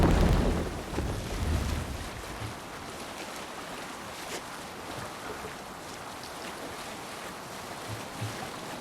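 A Viking ship sails over ocean waves in a video game, with a steady wash of water and surf that swells loudly at first, then settles into a softer, continuous rush.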